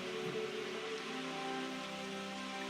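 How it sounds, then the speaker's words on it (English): Steady rain falls in Jurassic World Evolution, an even, continuous hiss of drops with soft tonal ambience beneath and no talk. "it's also raining"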